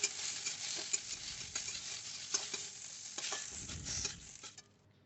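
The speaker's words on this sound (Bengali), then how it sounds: "ওই একই তেলে দিয়ে দিচ্ছি ডুমো করে কাটা টমেটোগুলো" Diced tomatoes fry in hot mustard oil for a restaurant-style Bengali bhindi do pyaza. A steady, close crackling sizzle runs throughout with stirring scrapes, a louder bubbling swell near the end, then it quickly fades out.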